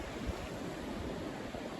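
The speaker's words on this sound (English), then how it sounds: "Just listen to those waves. There's nothing angry about them." Ocean waves wash steadily against the shore in a continuous, even roar of surf, with no talk and no breaks between swells.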